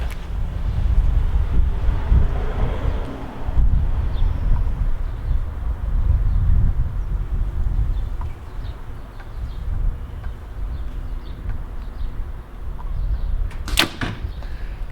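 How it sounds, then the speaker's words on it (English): Wind blows outdoors at an archery range during a compound bow test, a steady low rumbling gust across the microphone that swells and eases, with a brief sharp knock near the end. "Now there's a little bit of wind here today."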